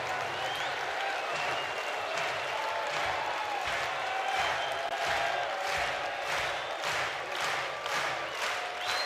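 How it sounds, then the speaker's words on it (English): Baseball crowd at a college game between Texas and Oregon, a steady wall of cheering and rhythmic clapping urging on the pitcher, loud and sustained throughout with no break. "Crowd trying to help Ruger Riojas."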